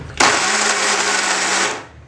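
A blender whirs loudly and steadily for under two seconds, starting abruptly and winding down at the end, with no talking.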